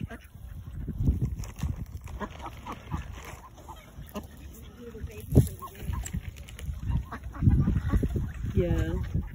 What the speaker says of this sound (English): those are coots, and these are ducks